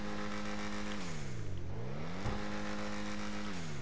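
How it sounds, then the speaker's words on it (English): An Emperor Vectre car in GTA 5 Online with maxed engine tunes revving hard, pitch climbing and dropping in sweeps with a sharp gear-change blip midway, loud and close with no talking. "it has a unique startup sound, but I think the engine sound is just nicked from another car"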